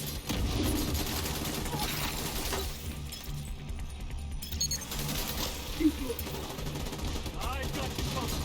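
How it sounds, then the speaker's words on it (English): Gunfire from every direction in the video game Division 2, a dense continuous clatter of shots and impacts with someone talking over the din throughout. "Taking fire from all sides!"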